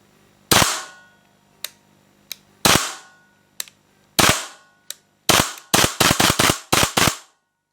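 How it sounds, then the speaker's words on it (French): A series of sharp, loud mechanical snaps from an M4A1 airsoft rifle trigger, a few spaced out at first, then a rapid burst of clicks near the end, with no talking. "Le trigger reset. On entend un petit clic."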